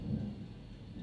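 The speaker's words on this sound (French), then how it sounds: "L'orage." Thunder from a storm rumbles low and continuous with soft rain in the background, a brief distant roll without voices.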